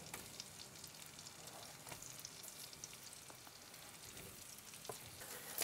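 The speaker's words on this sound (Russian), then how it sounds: "Та картошечка, которую мы уже порезали, и вы уже порезали, отправляется на сковородку" Steady, dense sizzling of potatoes frying in butter in a pan, continuous and fairly close, with a few faint stirring scrapes.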